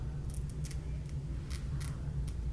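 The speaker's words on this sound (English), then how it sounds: "we're gonna just like kind of cut the lace off here" Scissors cutting the lace off a glueless layered wig, giving several short, crisp snips spaced irregularly over a low steady background hum, with no talk.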